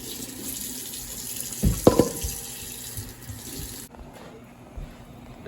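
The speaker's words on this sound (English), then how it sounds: "After a couple minutes, you're gonna wash it in the cold water." Cold tap water runs steadily into a sink as raw beef is washed under it, with a few louder splashes and clunks midway before the flow cuts off and the room goes quieter.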